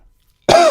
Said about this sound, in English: I'm needing to have a cough